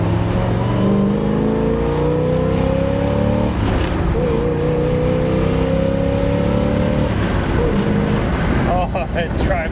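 A 1967 Impala SS with a big-block V8 and four-speed accelerates in second gear, recorded from mics at the rear exhaust: a steady loud engine drone climbs in pitch, drops at the shift, then climbs again, with faint talk underneath.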